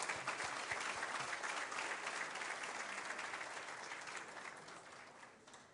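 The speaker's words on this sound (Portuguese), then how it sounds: "Uma salva de palmas." An audience at a lunch debate with José Serra gives a round of applause, a dense, even patter of many hands heard at a distance and at low level, gradually tapering off.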